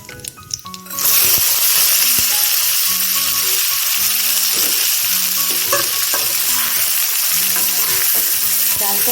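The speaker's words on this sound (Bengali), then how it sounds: "যখন দেখবেন চাল থেকে ফুটফুট আওয়াজ বেরোচ্ছে তখন জানবেন যে আপনার চালটা ভাজা হয়ে গেছে" Steady loud sizzling of rice frying in a pan for sweet Bengali pulao, starting after a brief quiet moment, with intermittent scraping and stirring clinks throughout.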